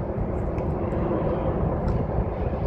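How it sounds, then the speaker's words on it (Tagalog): An airplane passes overhead near the Tsing Ma Bridge, heard as a steady, broad engine roar that stays loud throughout. "Ayan, aeroplano."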